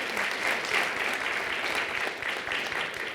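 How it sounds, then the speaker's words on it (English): A community audience applauds warmly at a talk, a steady, dense patter of many hands clapping at moderate loudness without a break. "warm round of applause"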